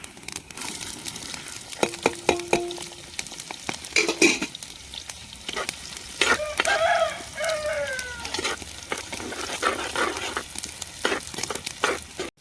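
Onions fry with fennel seeds in a pan, a steady close sizzle broken by sharp clinks and scrapes of stirring, with one longer whining squeal in the middle and no talking.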